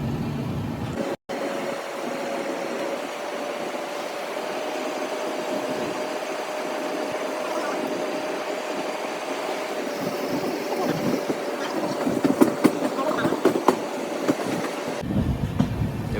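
A passenger train pulls into Ayodhya Ram Junction in the early morning, with a steady rumble and clickety-clack of wheels on rails throughout and sharper clatter toward the end.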